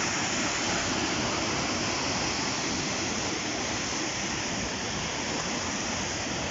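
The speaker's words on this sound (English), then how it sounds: "Just listen to the flow of the water here." Water pours steadily over Afton Dam, dropping down the river in steps. The roar is loud, close and unbroken, a broad constant rush with no voices over it.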